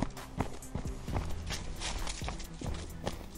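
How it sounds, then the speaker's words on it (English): Hurried footsteps crunching through dry leaves as ghouls run in a game of D&D, with several quick overlapping treads and scuffs close by over a steady low rumble. "you hear the crunching of leaves and footsteps"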